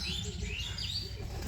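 Angry male pigeon calling from a short distance, a low throaty rumble of repeated coos under brighter chirps and tweets from other birds, steady and fairly loud throughout with no talking.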